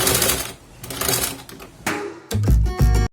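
A sewing machine stitches over an existing seam on a patchwork fabric cover for a gas cylinder, rapid mechanical chattering in short bursts with pauses, close and fairly loud.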